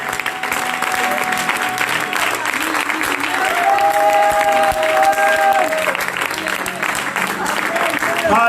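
A church congregation applauds and acclaims Jesus, steady dense clapping from a crowd filling the space throughout, with voices and a sustained tone rising over the din.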